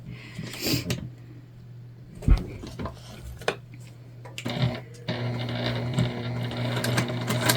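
A sewing machine stitches a tote bag seam in short, separate bursts of whirring with clicks and brief pauses between them, close by and moderately quiet.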